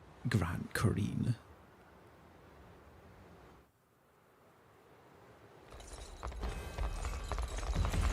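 A horse's hooves clip-clop in a quick, close burst in the fantasy strategy game Unicorn Overlord, then fade into quiet wind-like ambience before a louder, rising swell.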